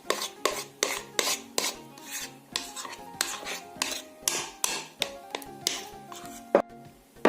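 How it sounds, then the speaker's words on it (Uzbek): Cake batter with two tablespoons of cocoa stirred in a bowl for a zebra pie, a spoon scraping and knocking against the sides in a steady rhythm of close, repeated taps and rasps, with no talking. "yaxshilab aralashtirib olamiz."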